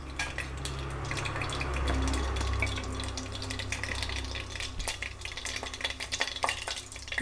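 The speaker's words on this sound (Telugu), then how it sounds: "ఇప్పుడు మనం ఈ ఆవాల్ని దీంట్లో వేసుకుందాము" Mustard seeds crackle and sizzle in hot oil in a home kitchen pan, a steady dense frying hiss with scattered small pops, close and moderately loud, with no talking.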